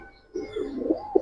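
Pigeons at a pigeon market, a close, soft cooing call rising and falling over about a second, with a brief quiet before it.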